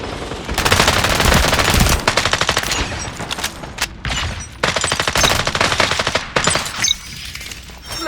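Gunfire in the shooter FragPunk: loud, rapid automatic bursts in several long volleys separated by short gaps, close and dominant, with no talk.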